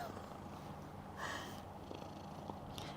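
A cat purrs softly and steadily at close range in a quiet room, a faint low continuous rumble with a few small rustles.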